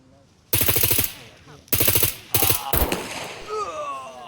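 Bursts of automatic gunfire in a shooting video game: a rapid string of about six shots, a pause, then two more quick volleys, loud and close, with brief voices afterward.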